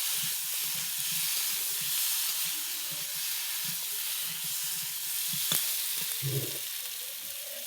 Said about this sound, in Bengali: এরকম ভাজা পটল কটাও দিয়ে নিলাম দিয়ে ভালো করে কষিয়ে নেব